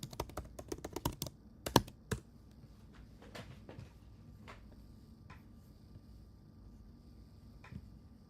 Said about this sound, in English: Let's just type scriptures, Robin.